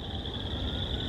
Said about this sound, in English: What you're hearing is Minnesota's smallest frog.